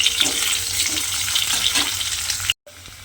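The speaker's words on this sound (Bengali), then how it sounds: "শুধুমাত্র আলুগুলো দিয়ে একটু তেলের মধ্যে ভেজে নিতে হবে।" Boiled potatoes frying in oil, a loud close continuous sizzle with soft stirring bumps, cutting off abruptly near the end before a quieter hiss resumes.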